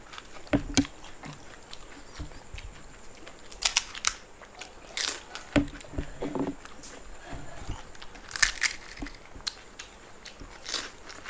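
Crunchy panipuri (fuchka) being bitten and chewed during an eating competition, close, crisp crunches coming in irregular bursts with soft handling noises between them.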